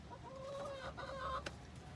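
Chickens cluck and balk close by in a couple of drawn-out, wavering calls over a low background hum, with no talking.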